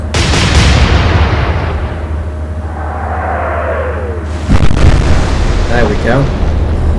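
Naval guns in the Atlantic Fleet warship game fire with a heavy booming blast that fades into a long rumble, followed by a second sharp report and splashing debris, with a voice speaking over it.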